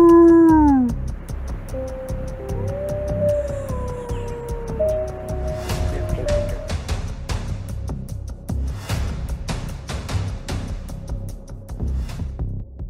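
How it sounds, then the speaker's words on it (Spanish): Wild wolves howling outdoors: a long, loud rising-and-falling howl opens, followed by several overlapping wavering howls and yips that fade by mid-clip, leaving background noise with scattered clicks. "este lobo se inmoviliza no muy lejos para dejar escapar algunos aullidos fuertes"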